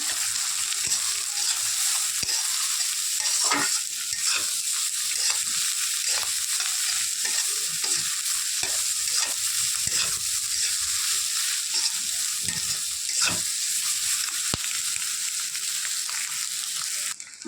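Rice with spices being stir-fried in a hot pan, a steady loud sizzle running throughout with repeated scraping strokes of the spatula against the pan.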